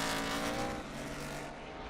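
NASCAR Cup Series race cars at the Brickyard roar back into turn one, a loud, sustained engine drone with shifting pitch as the pack passes close by.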